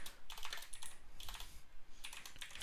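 Keystrokes on a computer keyboard come in three quick bursts separated by short pauses while a prompt is typed, close and fairly quiet, with no voices.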